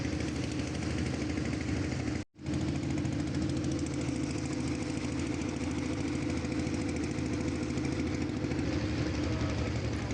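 A river trawler's engine drones steadily and close by, a continuous low throbbing rumble that cuts out for a split second before resuming unchanged.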